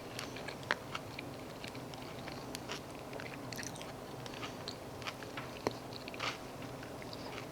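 Close, quiet chewing of a bite of a Burger King Impossible Whopper, soft wet crunches and smacks in an irregular rhythm with no talking.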